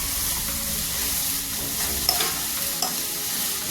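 Grated carrot stirred into tomato chutney in a hot pan, a steady close scraping and soft sizzle with a couple of light spoon taps against the pan.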